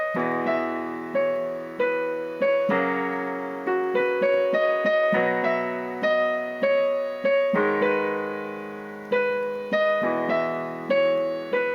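Simplified piano arrangement of the Naruto Shippuuden opening, a melody over left-hand chords struck once each; notes ring and decay in a steady rhythm, played alone and up close.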